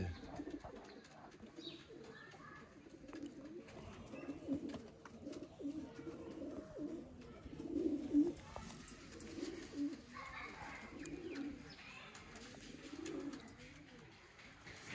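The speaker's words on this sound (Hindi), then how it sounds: "ये चेक करें जी दोस्तों, प्योर टैडी कबूतर है" Teddy pigeons coo repeatedly in low, soft, throaty rolls, several birds overlapping in a steady murmur at close range.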